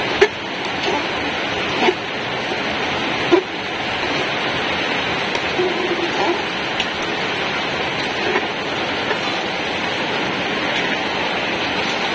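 Steady, dense hiss of heavy rain pours without pause, with a few faint knocks breaking through the downpour.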